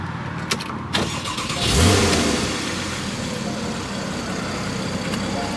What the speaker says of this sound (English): Start this thing up.